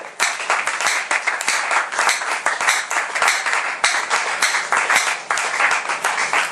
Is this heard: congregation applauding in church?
yes